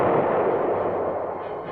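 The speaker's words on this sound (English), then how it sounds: "the tanks meet heavy fire from enemy tanks" Cannon fire rolls out during an M60 Patton tank battle as one dense, rumbling roar of heavy fire that is loud at the start and slowly fades, with no voices.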